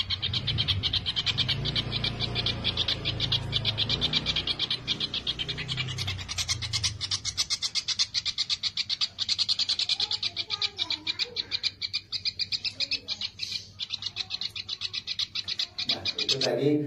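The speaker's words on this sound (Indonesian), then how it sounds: "Nah, itu tadi suara burung udang ya" Recorded call of a kingfisher, the burung udang known in West Java as cukahke, used as a masteran bird call: a rapid series of sharp, high repeated notes, steady and close, running continuously without talk.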